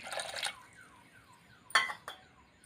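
A small pressure cooker on medium gas, cooking bhagar, vents a bright hissing steam burst, then falls to a faint hiss before two sharper spurts of steam follow.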